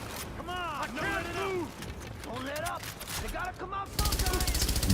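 An RPK light machine gun fires a rapid, loud burst in a video game, its evenly spaced shots arriving near the end after a stretch of speech.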